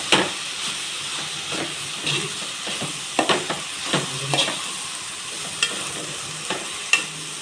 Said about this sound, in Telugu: సో ఇది మొత్తాన్ని బాగా కలుపుకోవాలి.